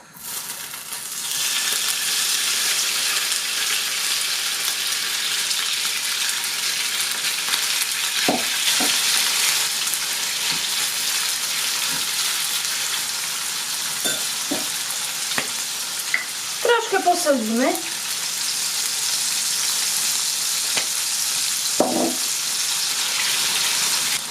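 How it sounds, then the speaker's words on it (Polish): Finely chopped carp sizzles and fries steadily in butter in a hot pan for a long stretch, with a few clinks and scraping stirs along the way. "dajemy drobniutko pokrojonego karpia i będziemy smażyć na złoto"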